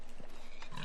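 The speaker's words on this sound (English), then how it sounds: "just gonna kill some pigs, I mean, so we can make some bacon." Pigs oink in Minecraft game audio in a couple of short, faint grunts against quiet background hiss.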